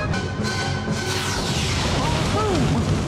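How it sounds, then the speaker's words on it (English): A sphere blows up in a Star Trek: The Next Generation scene, a dense, loud rumbling blast that fills the whole stretch, with faint sweeping whistles threaded through it. "that was a bigger explosion than I thought"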